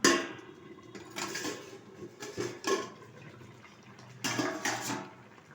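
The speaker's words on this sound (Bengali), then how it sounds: "ঢাকনাটা তুলে দিচ্ছি।" Metal lid lifted off a pot of Bengali rohu fish curry with ridge gourd and potato, a few clanks and clatters of metal against metal, close by in a quiet kitchen with no voices.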